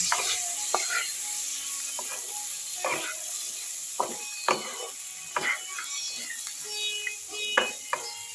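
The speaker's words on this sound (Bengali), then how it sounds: "আর একটু ভাজা ভাজা করে নিচ্ছি আলুর সঙ্গে" Potatoes with peas, chopped tomato and green chillies frying in a pan give a steady hiss, broken by repeated sharp scraping clatters as a utensil stirs through them, with no talking.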